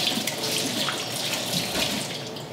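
Tap water runs steadily into a sink while squid is rinsed for a Korean seafood pancake, a constant close splashing stream with no talk.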